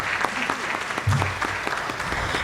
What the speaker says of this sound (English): Ladies and gentlemen, a round of applause again for Ms. Aurelia.